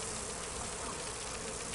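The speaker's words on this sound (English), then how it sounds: "Did he just bring a stick with bees on it, a beehive?" Bees from a beehive cudgel weapon in Dragon Age: Inquisition drone in a dense, continuous buzz that stays loud and steady with no talk.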